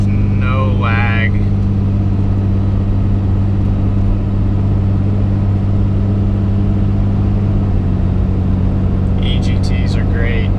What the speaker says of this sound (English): here's just a light little acceleration. You can see the spool is just great. There's no lag.